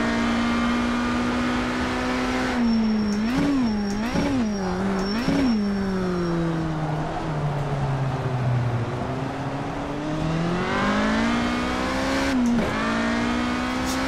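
A GT race car engine in the sim racing game World Racing Series drones loudly and continuously, revving up and down through gear changes with rising and falling pitch sweeps.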